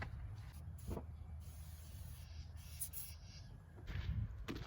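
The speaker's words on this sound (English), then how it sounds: "we're gonna go ahead and Febreze the inside" Febreze air freshener is sprayed inside a new work truck's cab in several short hissing bursts, fairly close, over a low background rumble with no talking.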